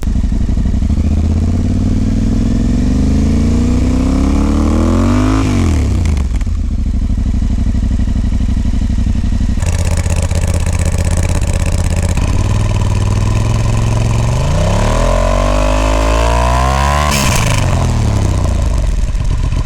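Stock exhaust of a 2024 Yamaha Tenere 700 or 2024 Honda Transalp 750 with a brand-new engine, idling with a steady mid-pitched rumble and clatter, rising in short revs and settling back down, close and loud with no talk.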